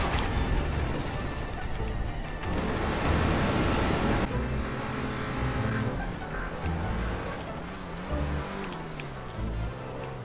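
A car engine roars continuously in GTA V Online while driving over unstable ground, loud and steady with shifting rumble throughout.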